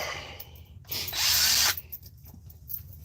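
A short burst of a power drill spinning, rising sharply for under a second amid clattering handling noise.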